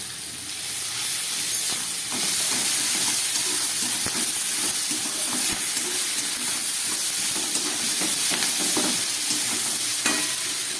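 Vegetables with chilli powder and ginger paste sauté in a pan for a Bengali vegetarian chorchori, giving a steady loud sizzle and hiss with scraping stirs throughout and no talking.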